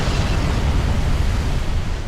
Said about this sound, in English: The tsunami rushes in, destroying the bungalow.